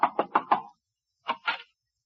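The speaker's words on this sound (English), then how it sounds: "I'll knock on the door." Knuckles rap on a door, first four quick sharp knocks, a short pause, then two more knocks, crisp and close with nothing else around them.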